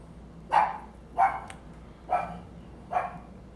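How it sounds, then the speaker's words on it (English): Dogs bark in a backyard, four evenly spaced single barks at moderate distance against a quiet background. "Those are dogs barking in the backyard."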